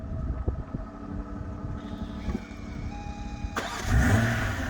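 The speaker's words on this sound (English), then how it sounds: "standard on some BMW models in this day and age does feature remote start" A 2021 BMW M440i coupe starts by remote start: a steady idle hum holds, rises with a brief whirr, then a loud burst kicks in as the engine fires and settles into a rumbling idle nearby.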